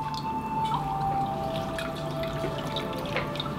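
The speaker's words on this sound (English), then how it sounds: "you're going to go ahead and rinse your towelettes" Facial towelettes are rinsed in water during a HydraSonic facial cleanse, giving soft, faint trickling and dripping splashes close by.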